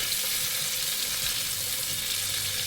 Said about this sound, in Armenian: Մի 2 րոպե էսպես միասին տապակեմ։